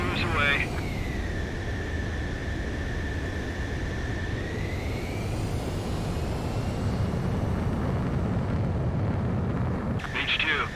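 A fighter jet launching from an aircraft carrier in Ace Combat 7, a sustained loud engine roar with a rising whine that holds steady and then fades, heard under radio chatter.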